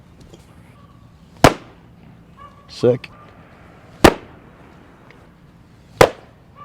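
A baseball snaps into a catcher's mitt with a loud, sharp pop three times at even intervals in an outdoor park with good echo, with brief talk between the catches.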